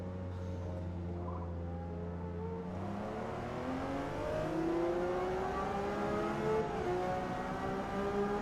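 A V6 racing car engine climbs steadily through the revs in a Gran Turismo 7 race, a loud, continuous rising drone with a brief shift near the start and no talking.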